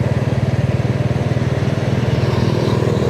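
A TVS motorcycle engine runs steadily at idle nearby, a loud, even low-pitched putter with a rapid regular pulse lasting about three seconds, with no talking.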